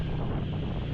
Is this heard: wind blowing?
yes